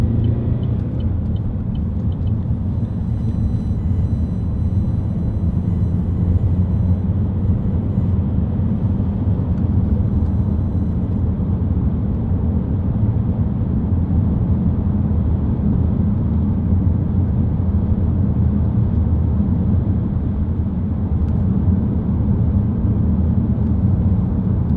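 A 2011 Vauxhall Astra 2.0 CDTi ecoFLEX diesel on the move gives a steady, loud, even rumble of engine and road noise from inside the cabin, with no voices throughout.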